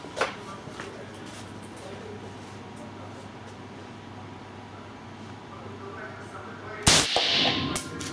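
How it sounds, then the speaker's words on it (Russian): An AK-74 rifle fired on a shooting range; a single sharp, loud gunshot crack rings out near the end after several seconds of quiet outdoor background, preceded by a faint click. "Ну, так, продолжаем стрельбу."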